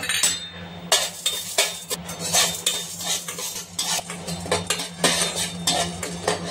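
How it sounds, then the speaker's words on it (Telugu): Dals being dry-roasted in a pan on a home stove, with a utensil stirring them in a steady run of loud, close scraping and rattling strokes and no voices. "మనం పెట్టుకున్న ఈ పప్పులన్నీ ఒక్కొక్కటిగా విడివిడిగా దూరగా వేపుకోవాలి."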